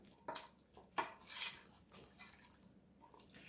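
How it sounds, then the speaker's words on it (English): Metal utensil clinks and scrapes against a pot of cannellini beans and gnocchi in irregular bursts, with a soft wet stirring sound between them, close by and fairly quiet. "And we will go ahead and stir it up to heat it through."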